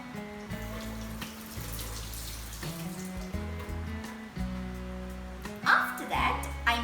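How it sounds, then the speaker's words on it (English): A kitchen tap runs steadily while hands are washed before making a chocolate milkshake. The water noise stays continuous and moderately close, with music playing underneath and a brief louder splash near the end. "First of all, I'm going to wash my hands."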